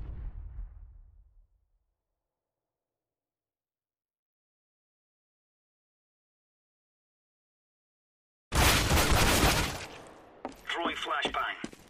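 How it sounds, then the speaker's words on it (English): Flashbang grenades going off in Counter-Strike: Global Offensive: a low rumble fades out, a long silence follows, then a loud sharp bang with a bright ringing hiss and a second burst trailing after. "Throwing flashbang."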